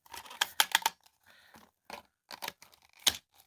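A Dyson DC25 vacuum tool catch button clicks and rattles as a part is pushed in and pulled out, producing sharp, close plastic clicks in small clusters separated by short quiet gaps.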